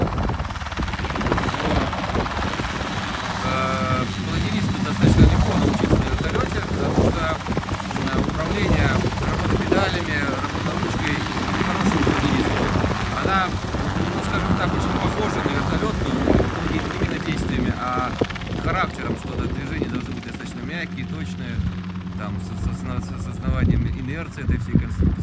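A CH-7 Kompress ultralight helicopter runs with a steady, loud engine drone and rotor chop throughout, with wind buffeting and what sounds like faint voices beneath.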